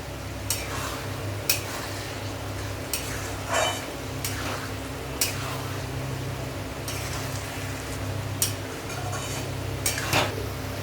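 Spoon stirring a vegetarian banana flower curry with potatoes in a pan, soft scraping and occasional metallic clinks at irregular intervals over a steady low cooking hum.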